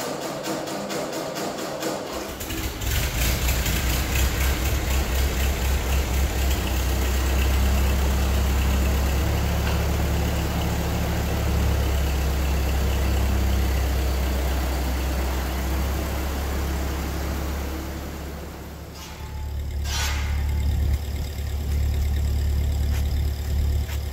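Tractor engine idling steadily with a deep, rumbling low-end drone, hooked to a homemade car differential mower; the note drops briefly near the end before picking back up, with no talk over it.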